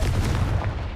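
A Confringo fire spell detonates in a Harry Potter game, a dense, booming blast that fills the whole short moment without pause.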